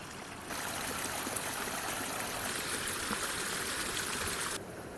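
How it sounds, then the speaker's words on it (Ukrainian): Steady rushing water of a mountain river, a constant broadband roar that starts abruptly and cuts off near the end. "Така чудова гірська річка."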